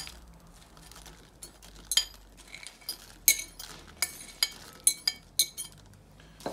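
Sharp metallic clinks of cutlery against a plate as fried potatoes are mixed with egg, pepper, salt, parsley and dill, a dozen or so irregular taps over a quiet background.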